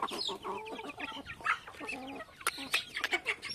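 Several chickens cluck and cackle close by, overlapping irregular calls with a few louder squawks.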